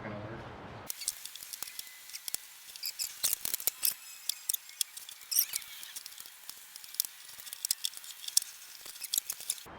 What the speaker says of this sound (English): I'm just going to try and snap the staples